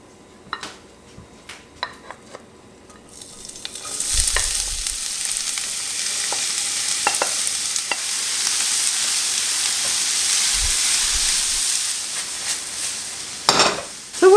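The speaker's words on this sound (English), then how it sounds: "I'm going to saute the onions, celery, and garlic now" After a few light clinks of utensils against a pan, onions, celery and garlic hit hot olive oil and burst into a broad, steady sizzle that continues for about ten seconds, with occasional stirring knocks and no speech.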